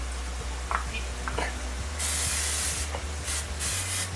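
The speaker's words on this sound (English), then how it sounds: "a little bit of nonstick spray" Nonstick cooking spray hisses from an aerosol can in short and longer bursts, close up, while chicken is cooking nearby.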